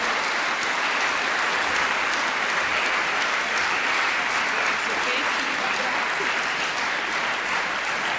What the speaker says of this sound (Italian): In Applaus per Vus, Lisa Appenzeller, Martin Zimmermann